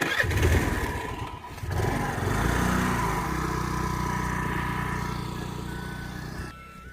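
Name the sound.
scooter engine running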